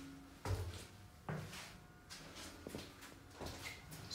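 A 1977 Dover traditional hydraulic elevator's door slides and clunks in a few quiet knocks and rolling movements, heard faintly and close with no talk.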